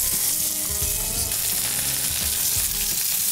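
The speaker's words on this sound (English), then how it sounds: "I've heated a pan already. And to that, some olive oil. And in goes the salmon." Marinated salmon frying in olive oil in a hot pan, a steady, close sizzle with crackling spatter running the whole time, no voices.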